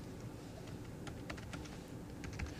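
Keys on a computer keyboard clatter in a quick, uneven burst of typing, close and fairly quiet, with no voices.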